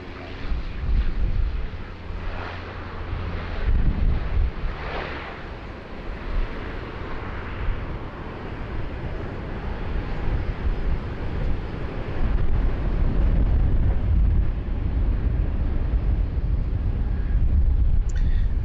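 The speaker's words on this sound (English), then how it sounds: "Our departure on screen there, Qantas flight 455, heading down to Melbourne. A 737-800." Qantas Boeing 737-800 jet departing Sydney Airport, a broad low roar that builds and stays sustained, heard from a distance with some wind buffeting on the microphone.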